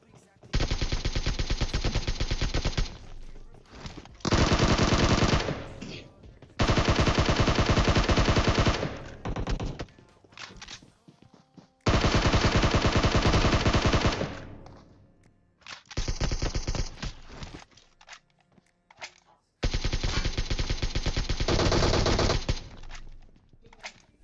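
Repeated long bursts of loud rapid-fire gunfire in PUBG Mobile, six sustained volleys separated by brief pauses.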